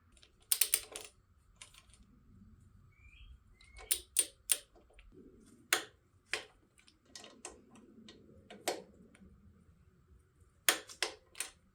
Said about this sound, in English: Let's go ahead and torque down these bolts.